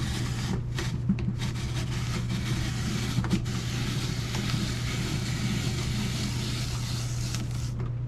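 Mechanical apple peeler being cranked through an apple, a steady low mechanical whir with scraping and rubbing, a few small clicks along the way.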